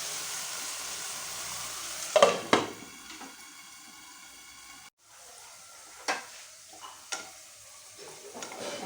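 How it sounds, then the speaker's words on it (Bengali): Potatoes fry on low heat in a covered pan with a steady soft sizzle, broken by a few sharp clinks and scrapes of stirring or a lid. "আলুগুলি আমার মোটামুটি ভাজা হয়ে গেছে"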